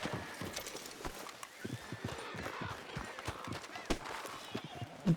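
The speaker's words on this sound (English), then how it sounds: "I can hear a lot of horses making a lot of racket." Several spooked horses in Red Dead Redemption 2 clatter their hooves in quick irregular clip-clops, moderately close, with a brief whinny-like cry near the end.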